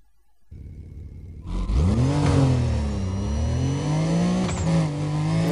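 A Porsche GT2 engine in NFS Undercover starts from a quiet idle, then revs hard and holds a loud, steady, rising drone. A brief gear-shift blip follows before the engine pulls on strongly.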